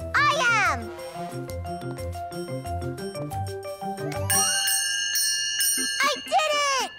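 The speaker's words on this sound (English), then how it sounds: "I'm going to ring the bell first." Children ring a bell, bright ringing tones sustained and decaying in the middle of the clip, mixed with music and excited children's voices talking at the start and end.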